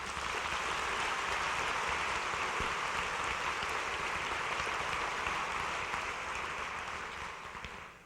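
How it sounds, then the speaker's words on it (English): A large audience at an opening day gathering applauds board members, a thick, continuous wash of many hands clapping at once that holds steady and eases off slightly at the end. "will you please give them a round of applause?"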